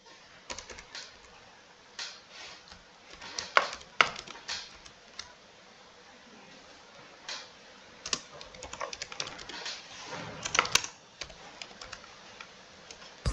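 Code typed on a computer keyboard during a remote interview, with close, irregular clicking keystrokes in bursts and pauses, some rapid runs and louder key thumps, with no voices heard.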